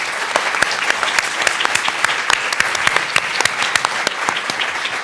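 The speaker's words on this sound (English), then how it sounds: "join me in a big round of applause for our incredible panelists" An audience applauds panelists at a political event, a full, continuous patter of many hands with individual sharp claps standing out near the front, steady and lively from start to finish.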